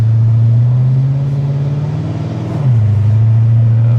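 A Chrysler 300 accelerating on the road, with a loud, steady engine drone that climbs in pitch and then drops at a gear change before settling back, heard from inside the car with no talk.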